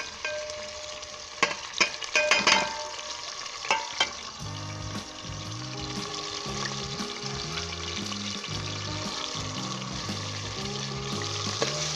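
Onion, tomato, ginger, garlic and green chillies hit hot oil for desi chicken chana daal with a loud, continuous sizzle. A few stirring clatters come early, and a light melodic tune plays underneath from midway.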